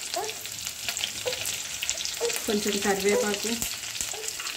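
Green chilies and curry leaves fry in hot oil in a pan for a spicy chicken snack, a steady close sizzle with stirring scrapes while someone talks over it.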